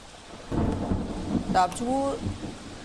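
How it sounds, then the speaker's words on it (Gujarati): Heavy monsoon rain in Dahod and Panchmahal, central Gujarat, with rolling thunder rumbling low beneath a steady wash of rain. A brief tonal call cuts in near the middle. "દાહોદ પંચમહાલમાં ધોધમાર વરસાદ વરસી રહ્યો છે।"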